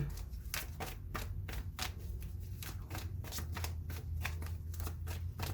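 Tarot cards being shuffled close up, a steady run of crisp riffling flutters and soft slaps repeating for several seconds, with no talking.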